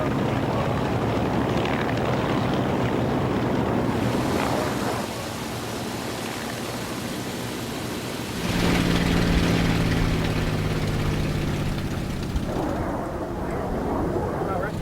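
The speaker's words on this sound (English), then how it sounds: "Those big Pratt & Whitney radials can be dangerous at startups." Big Pratt & Whitney radial aircraft engines run up on the ramp at the Reno air races, a steady loud piston drone with a rising surge partway through, the roar swelling and easing over the whole stretch.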